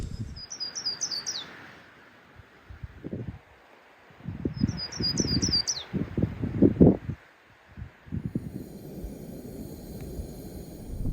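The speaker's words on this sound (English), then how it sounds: "it sounds like the little bird says, "Please, please, please to meet you."" A small bird sings two short, rapid phrases of high, descending notes in the White Mountains of New Hampshire, with rustling and handling noises close by in between.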